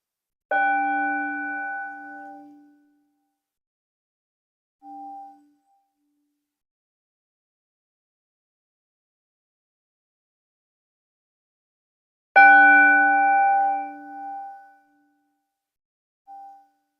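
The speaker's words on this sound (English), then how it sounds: "Let's listen to the bells, and the bell helps me calm down too." A meditation bell strikes twice, each ring bright and sustained before fading slowly, with brief soft follow-up tones and long stretches of silence between, calm and clear with no talking.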